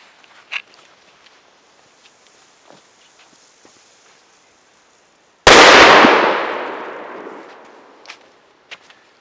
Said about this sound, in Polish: Pierwsza petardka Danger.